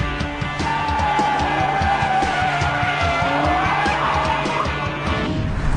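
A 5-litre V10 sports car engine with Grand Prix-derived technology, rated to 8,250 rpm, roars loudly at high revs in its sport mode, with a steady tire-squealing, racing-car drone that runs unbroken throughout.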